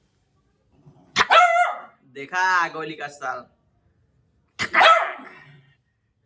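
A dog barks in three separate loud, close bursts, with short gaps of silence between them.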